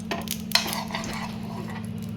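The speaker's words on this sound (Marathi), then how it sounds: "आता लगेचच आपण हे थालपीठ यावरती टाकून घेऊया सहज हे थालपीठ तव्यावरती टाकून घेऊ शकतो" Methi thalipeeth flatbread with holes poked in it sizzles in a little oil on a hot tava: a steady close frying hiss over a low hum, with faint scraping clicks.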